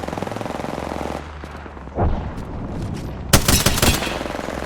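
Gunfire in Apex Legends: quick automatic bursts crack out loudly near the end, over a steady rumble of background game sound.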